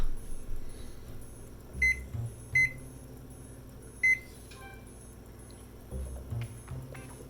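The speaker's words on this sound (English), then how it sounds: "I'm going to go ahead and set my timer for 10 minutes now" Kitchen timer being set for ten minutes, giving a few short, quiet electronic beeps spaced apart over a low steady hum, with no talking.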